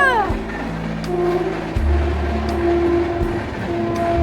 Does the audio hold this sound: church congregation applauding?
no